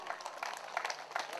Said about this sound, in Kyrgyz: Кол чаап коелу туугандар.